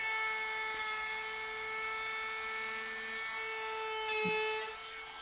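A router with its bit cutting a wooden picture-frame piece, a steady high-pitched whine that runs continuously and sits close, with a slight dip and a small knock near the end.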